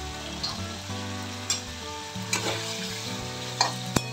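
Curry with tomato and salt sizzles steadily in a pan over a low gas flame, with sharp clinks of a spoon stirring and scraping at irregular intervals, close and moderately loud.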